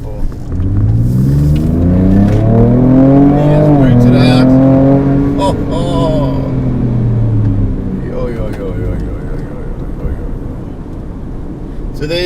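A Ford Ranger Raptor pickup truck accelerates on the road, its engine note climbing in pitch through the gears, loud and close, then easing off to a steadier hum.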